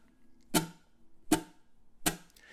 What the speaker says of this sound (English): using some part of the palm to mute the strings just before the fingers strike them